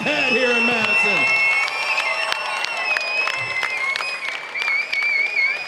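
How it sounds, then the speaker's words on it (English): A crowd at a mixed martial arts fight event in Madison, Wisconsin applauds and cheers in a sustained, loud wave of clapping while an announcer speaks over the arena noise. "one more round of applause for one of the best main events we've had here in Madison."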